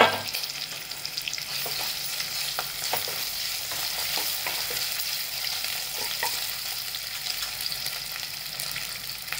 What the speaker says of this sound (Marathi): कांदे परतले, त्यात अद्रक लसूणची पेस्ट टाकते